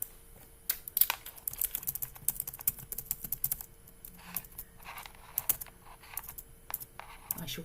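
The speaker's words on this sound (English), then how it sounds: "I shall type instead." Rapid clicking of computer keyboard keys being typed, in irregular bursts with short pauses, fairly close and moderately quiet, with faint background hum and no talking.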